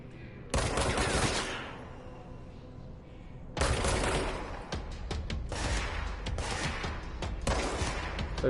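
Gunfire in the video game Control, a sustained burst of rapid automatic fire followed by a longer stretch of repeated shots and bursts, loud and close, with faint talk underneath.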